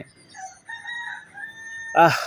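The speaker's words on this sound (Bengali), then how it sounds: "মোরগের ডাক শুনতে পারতেছেন?" A rooster crows loudly and nearby at dawn, heard from a 14th-floor rooftop in Old Dhaka, a long drawn-out call over a steady background hum, ending in a brief harsh burst.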